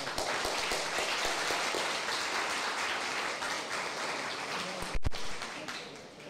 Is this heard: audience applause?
yes